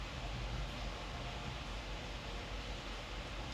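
Rain falling steadily outside, a soft, even hiss of dense drops heard from indoors, quiet and continuous throughout with no voices over it.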